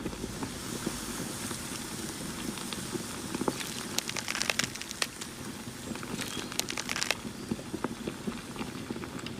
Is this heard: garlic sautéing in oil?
yes